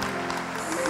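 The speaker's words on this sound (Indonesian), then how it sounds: "Berikan tepuk tangan buat Tuhan." A church congregation applauding, a brief dense burst of clapping that stays at an even level for its full length.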